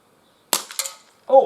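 A Gletcher NGT RF air revolver fires its final shot outdoors, a sharp crack followed almost at once by the bright metallic clink of the pellet striking a can, then a brief exclaiming voice.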